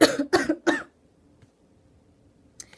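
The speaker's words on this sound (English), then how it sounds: "when I talk, like, I'm gonna cough a lot." Three quick, harsh coughs in a row, close by, followed by near silence and a faint rustle at the end.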